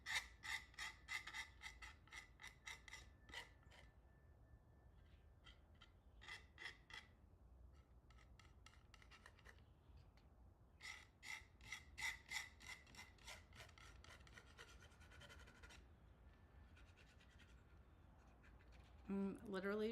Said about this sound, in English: Literally just rubbing it down.